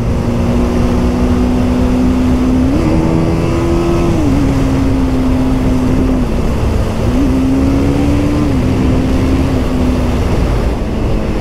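A TVS Apache RR 310 and a Yamaha R15 race side by side on a road, with steady, loud engine drone close by whose pitch climbs and dips through gear changes, and wind rushing over it throughout.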